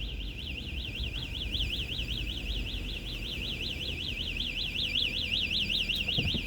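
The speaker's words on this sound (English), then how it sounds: "That's the store's alarm." A store security alarm at a Walmart gas station in Destin, Florida, wails at night with a steady, fast warbling tone that repeats without pause over a low rumble of ambient noise, sounding moderately distant.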